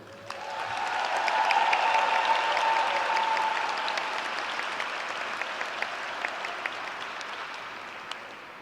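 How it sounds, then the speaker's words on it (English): An audience breaking into loud, sustained applause, many hands clapping together, swelling early and then slowly tapering off with a few scattered claps near the end. "you deserve the biggest applause"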